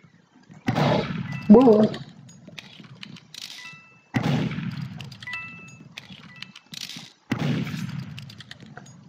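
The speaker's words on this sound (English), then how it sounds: "Who the crap is shooting?" Gunfire in the Roblox game Murder Mystery: a few sharp shot bursts spread across the clip, with players talking and exclaiming over them.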